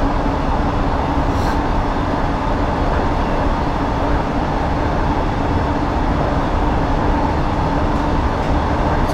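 A London Underground S8 Stock train in Train Simulator 2019 rumbles steadily along the District line, a continuous loud low drone of motors and wheels on rails with no pauses or voices.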